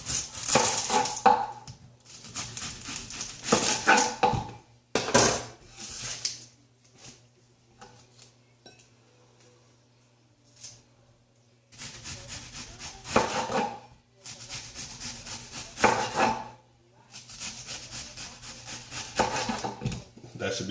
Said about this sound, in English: let's get the onions sliced up